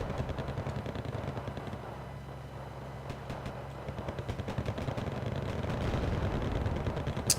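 Battlefield gunfire in Wargame Red Dragon builds into a steady, dense rattle of automatic fire and rumbling engines, faint at first and growing louder toward the end, with no voices.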